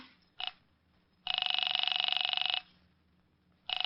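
An old-style telephone bell rings in steady electric bursts at a police station, a short one, then a long ring, then another starting, over quiet background hum.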